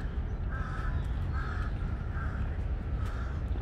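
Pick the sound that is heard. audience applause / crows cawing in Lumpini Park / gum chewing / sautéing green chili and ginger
crows cawing in Lumpini Park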